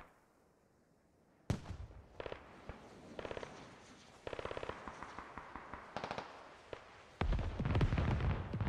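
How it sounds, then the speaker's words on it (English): Rocket barrage explosions in a video game set during an insurgent defence of Lashkar: after a quiet start, a dense run of sharp, rapid blasts and crackling impacts bursts out, ending in a loud, sustained rumbling roar. "Good rocket barrage again"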